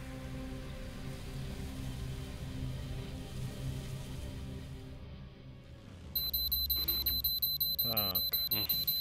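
An alarm clock rings in Metro Exodus after a stretch of dripping rain and low ambience, its repeated high electronic beeps starting partway through and pulsing steadily and loudly to the end.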